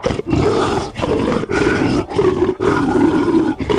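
Werewolf roaring in a tabletop role-playing game sound effect, a loud, close series of guttural roars in several bursts separated by short breaths, heard alone without voices.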